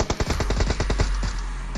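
Rapid automatic gunfire from an MK rifle in the PUBG Mobile video game, a loud, close burst of about a dozen evenly spaced shots with no talking over it.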